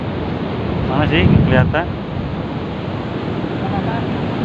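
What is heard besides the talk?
waves and wind at Karapyak beach, Pangandaran, West Java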